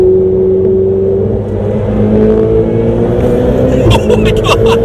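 A Ferrari 488 Spider's turbocharged engine pulls hard under acceleration, a loud rising drone heard from inside the cabin with the window down, climbing in pitch with a gear change midway, with sharp clicks and bursts near the end.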